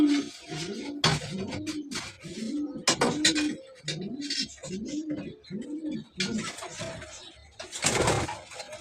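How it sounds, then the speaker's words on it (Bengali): A domestic pigeon, a bird that had been sold months earlier and has come back home, coos in repeated rounded phrases close by, about eight in a steady rhythm, with light rustling and clatter between them. "এবার মনে হচ্ছে আমার এই কবুতর"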